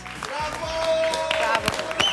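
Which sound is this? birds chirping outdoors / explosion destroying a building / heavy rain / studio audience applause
studio audience applause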